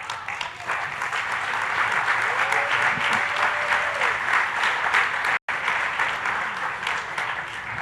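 Audience applause at the Denver Startup Week final pitch event, a dense, sustained wash of many hands clapping, cut by a brief dropout midway, with faint voices underneath.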